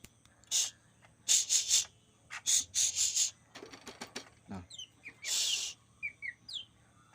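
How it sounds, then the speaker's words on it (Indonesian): Tame pet bird chirping close by in short bright bursts, a string of separate chirps and trills with brief gaps, some sharp and high, over quiet background. "Ini buktinya ya, burung yang udah jinak nih."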